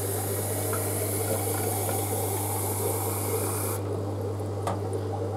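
Water pours continuously over brine shrimp hatching ingredients in a container, a close, even rushing splash that cuts off abruptly near the end, leaving a low hum and a faint clink.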